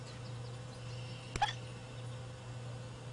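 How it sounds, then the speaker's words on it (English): A baby bat gives a single tiny hiccup, a short faint click with a squeaky edge, heard alone over a steady low hum. "The bat has the hiccups."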